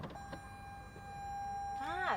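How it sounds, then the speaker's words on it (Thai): A Toyota car's parking sensor warning sounds as a steady, faint electronic tone lasting about two seconds over low cabin noise, and a voice starts just as it ends. "จะมีเซ็นเซอร์แจ้งเตือนนะ ไอตัวนี้ก็จะเป็นระบบแจ้งเตือน"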